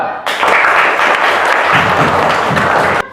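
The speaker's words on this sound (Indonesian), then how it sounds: "Tepuk tangan untuk kelompok 2." Classroom applause for a student group, a burst of many hands clapping together at close range, starting abruptly and holding steady for about three seconds before cutting off.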